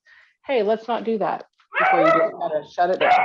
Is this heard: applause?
no